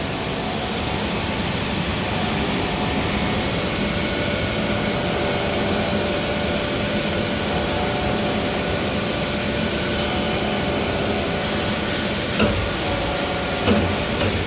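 A tube coiling machine runs after a foot pedal is pressed, giving a loud, steady, broad mechanical roar with a faint whine that holds unchanged throughout, with a couple of small knocks near the end.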